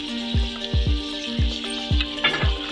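Chicken meat frying in a pan for a chicken salan curry, a steady bright sizzle running throughout alongside a regular thumping musical beat.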